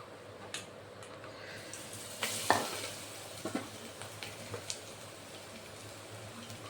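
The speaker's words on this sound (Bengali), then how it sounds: "এখন বাকিগুলো আমি এইভাবে ভেজে নিচ্ছি" Stuffed spiny gourd (kakrol pur) frying in oil in a pan, a steady low sizzle with a few louder crackles and spatters, plus light clicks of a utensil moving the pieces.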